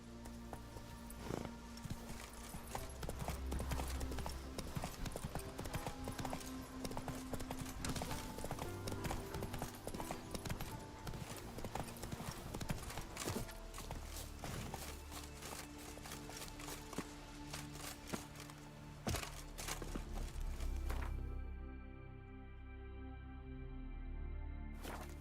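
A horse in The Witcher 3 galloping with rapid, rhythmic hoofbeats that stay steady and fairly close for most of the run, then slow and fade near the end amid game ambience.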